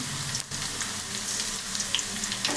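Ginger garlic paste and curry leaves frying in oil, a loud, close, steady crackling sizzle with a brief dip partway through, alone without speech.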